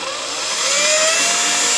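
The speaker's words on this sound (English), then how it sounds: "drill through very carefully, and those will be where my bolts go" A power drill bores through a cigar box during a cigar box guitar build: a loud, steady motor whine that rises slightly in pitch and holds for nearly two seconds.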